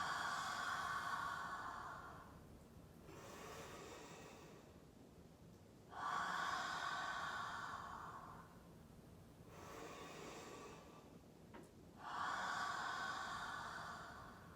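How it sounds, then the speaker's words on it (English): Slow, deep breaths in a guided breathing exercise: three long, soft inhale and exhale cycles, each a breathy hiss that rises and then fades, close and quiet with no talking. "Breathe in, and then exhale."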